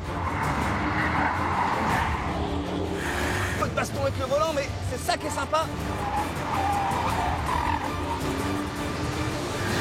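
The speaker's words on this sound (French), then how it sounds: "Je sais pas si vous entendez les pneus, mais ça couine." Tires squeal on a Porsche Cayenne Coupe SUV pushed hard through the winding final section of a race circuit, a thin squeal rising over a constant engine and road roar while someone talks throughout.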